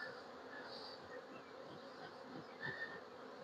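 Honeybees in a full hive box, with all ten frames covered, hum in a soft, continuous buzz that stays faint and steady with slight swells.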